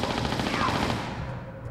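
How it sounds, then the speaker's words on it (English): Rapid machine-gun fire in Tomb Raider 4, a fast loud burst of repeated shots that runs without a break, close up. "I was seriously shooting myself right there."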